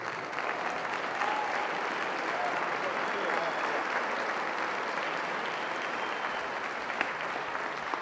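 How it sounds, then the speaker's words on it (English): A large audience at a high school hall of fame ceremony applauds steadily and evenly throughout, with a faint murmur of voices underneath. "let's have one final round of applause for our 2015 Outstanding Student Scholars."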